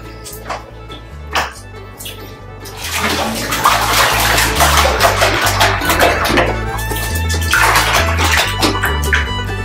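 A chihuahua gets a bubble bath in a filling tub, with running and splashing water building to a steady, close wash. Hands move against the tub, and a voice speaks softly now and then.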